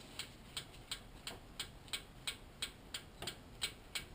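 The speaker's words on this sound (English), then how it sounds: "is the rocker arm bouncing on the camshaft." A light, regular ticking from a Nissan KA24E engine's rocker arm tapping on the camshaft, about three ticks per second, faint over a low running hum.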